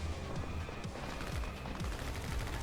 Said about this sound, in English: all the time firing weapons and bullets at the bad guys